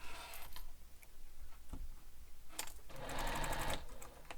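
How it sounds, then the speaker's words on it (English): A sewing machine runs stitching a messenger bag seam, with rapid mechanical ticking in short runs that pause and restart, ending in a louder, faster burst of stitching. "continue sewing all the way to the other end"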